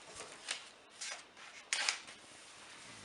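A few quiet, crisp snips and rustles from scissors cutting through floristry ribbon, spaced irregularly, close and faint.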